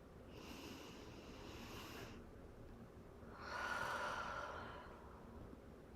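Slow deep breathing, two long airy breaths a couple of seconds apart, the second louder and fuller, close and quiet with no voice.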